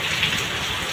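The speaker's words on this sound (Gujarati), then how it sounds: "જબરદસ્ત વરસાદ ચાલુ થઈ ગયો છે" Heavy rain pouring down in a dense, even hiss, close and loud throughout a single second with no voices.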